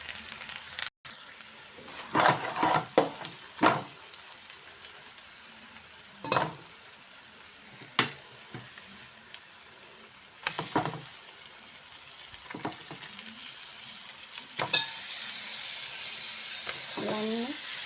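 Fish fries in a pan with a steady sizzle, with intermittent louder bursts of crackling and stirring scrapes throughout.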